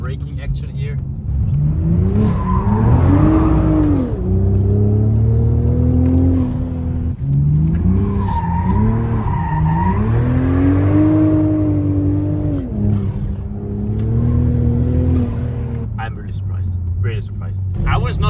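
A 2024 BMW Z4 engine rises and falls as the car brakes and accelerates, a loud close interior drone with swelling revs, heard under continuous conversation.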